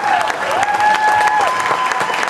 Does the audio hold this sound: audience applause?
yes